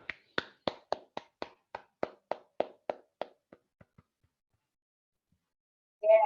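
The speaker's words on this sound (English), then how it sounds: "Please give a big round of applause." Meeting attendees clap for a trophy recipient: sparse, distinct claps from only a few hands, close by, about a dozen in a loose rhythm that slows and fades out. A short silence follows before a voice briefly begins.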